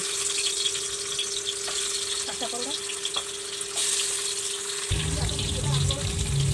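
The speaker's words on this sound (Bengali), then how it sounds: "তেল গরম হয়ে গেছে, এবার মাছটা ভেজে নিচ্ছি" Hilsa fish frying in hot oil in a home kitchen, a steady close sizzle and crackle with a low hum under it and a brief bump of utensil noise near the end.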